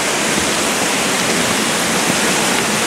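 A waterfall at Sekar Langit roars in a steady, dense rush of water, loud and close, with no pauses or voices over it.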